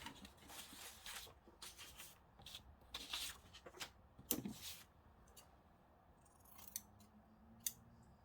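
Several crisp scissor snips cutting lace for a papercraft page, close and fairly quiet, spaced irregularly with soft handling and rustling between cuts.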